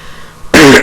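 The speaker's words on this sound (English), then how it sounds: "Cough." A single sharp cough or throat-clear bursts out near the mic, loud and broadband after a quiet start, with a brief dip before trailing off.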